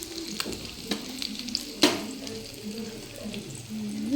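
Sheep head and trotter sambar frying in a pot, with soft sizzling throughout and occasional clinks and scrapes of a spoon stirring, plus one sharper knock midway.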